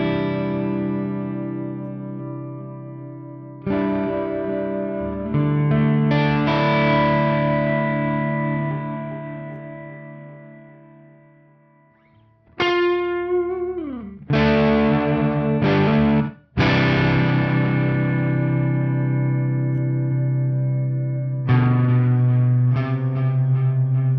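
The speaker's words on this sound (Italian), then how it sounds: "quando switcho tra i due preset sentirete appunto la coda del delay che rimane quando passo in quello senza" Distorted electric guitar through an effects unit with delay, chords ringing out and repeating echoes carrying on as presets switch, with no audible gap in the sound and no talking.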